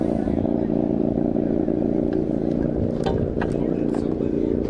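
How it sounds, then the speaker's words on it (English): A 1650cc special-construction pushrod motorcycle engine running on fuel at El Mirage dry lake racing gives a loud, steady, droning roar throughout, with voices talking over it. "That is a 1650cc special construction motorcycle. Push rod engine on fuel."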